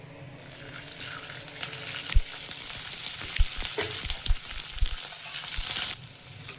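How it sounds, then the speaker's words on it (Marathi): Garlic roasting in oil in a pan, a continuous bright sizzle with several soft knocks and taps of a stirring spoon against the pan, stopping abruptly near the end. "आता आपण लसूण भाजून घेऊया."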